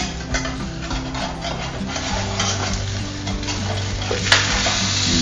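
Pork chops sizzle steadily on grill grates over a stove turned up high, a loud continuous fry with occasional clinks and scrapes of metal utensils, no talking.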